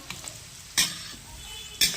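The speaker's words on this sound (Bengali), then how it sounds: "দিয়ে ভালো করে নাড়াচাড়া করে নেব।" Ingredients for fried rice, seasoned with pepper and sugar, are stir-fried in a pan with a soft sizzle, and two sharp scraping stirs come through close and clear.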